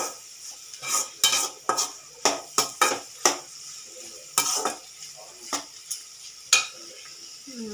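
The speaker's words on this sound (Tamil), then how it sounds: "நல்லா எண்ணெயில் மிளகாத்தூள் வதங்கணும்" Chili powder fries in oil for vegetable noodles while a spoon scrapes the pan in a quick irregular series of about a dozen close strokes over a low sizzle.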